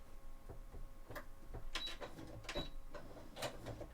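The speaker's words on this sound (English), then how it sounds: "Come on, sewing machine." A sewing machine stitches glove fabric for a cosplay costume in short uneven bursts of mechanical whirring and clicking, starting and stopping several times at close range.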